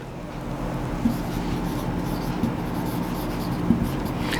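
Chalk or marker strokes scratch across a classroom board during a lesson on the solar system, with soft continuous scraping and three light taps spaced about a second apart, steady and close.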